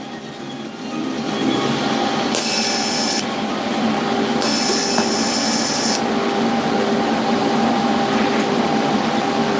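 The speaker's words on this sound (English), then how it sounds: "Let's try and weld this up." Welding thin rusty metal gives a continuous crackling, sputtering buzz that runs steadily for about nine seconds once the arc strikes. Bright hissing bursts flare up twice over the steady sizzle.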